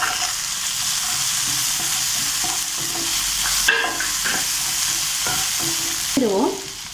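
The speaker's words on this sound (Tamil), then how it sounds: "வதங்கட்டும். நம்ம இந்த தேங்காயை ஆட் பண்ணிப்போம்." Grated coconut sautéing in a pan for roadside-style parotta salna, with a steady loud sizzle and repeated scrapes and stirs of a spoon throughout, no voices.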